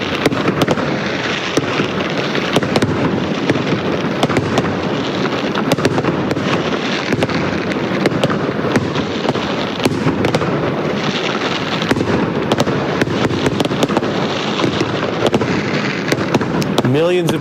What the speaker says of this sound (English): Fireworks were set off, celebrating the historic win.